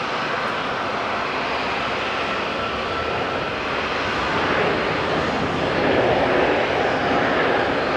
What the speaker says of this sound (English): He's racing down the taxiway at this touchdown.